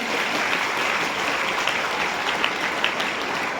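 An audience of students at an educational talk claps together in a dense, steady burst of applause that holds level throughout.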